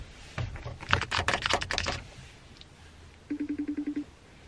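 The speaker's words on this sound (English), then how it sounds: "You can hear the keyboard." Typing on a computer keyboard: a quick flurry of close, crisp key clicks, a pause, then a short even run of about eight tapping clicks, alone in a quiet room.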